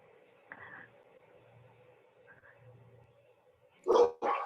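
Dogs barking at a home near a veranda: a few faint distant woofs, then two loud, close sharp barks at the end.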